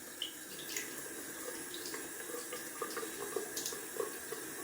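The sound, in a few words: water running from tap, splashing cold water on face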